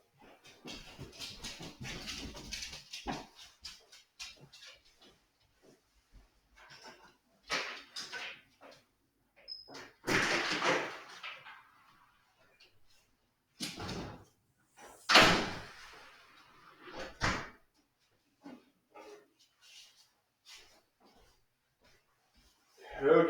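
A pet dog whimpers indoors and a door closes as it goes outside; soft whines and shuffling are followed by several loud knocks and bangs of the door, with quiet talk in between.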